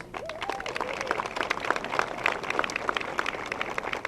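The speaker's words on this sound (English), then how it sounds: "Please give a round of applause for Assemblyman Billy Jones" An audience at an Honor Flight ceremony gives steady, dense applause, fairly distant and soft, without pause.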